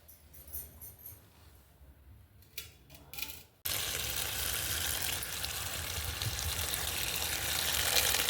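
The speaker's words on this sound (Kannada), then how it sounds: "ಕೊನೆ ಸಲ ತೊಳಿತಾ ಇದ್ದೀನಿ ಅಷ್ಟೇ." Leafy greens being washed in a basin of water for a mixed greens palya, with light handling sounds at first, then a sudden loud, steady rush of running water and splashing close by.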